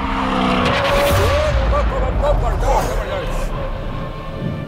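A Volvo FH truck understeers through a racetrack corner, tires squealing in long wavering whines over a loud engine roar, with people talking over it.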